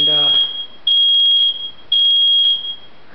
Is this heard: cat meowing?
no